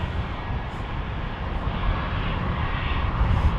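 Heavy jet airliners at Minneapolis–St. Paul airport produce a steady, broad engine roar at moderate distance, holding constant and swelling slightly toward the end, with no voices.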